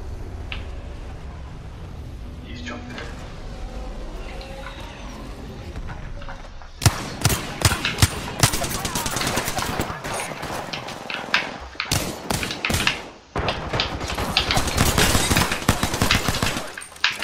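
Gunfire in Apex Legends, quiet ambience at first, then dense bursts of rapid automatic shots and single cracks, loud and close, with a brief pause before the firing resumes.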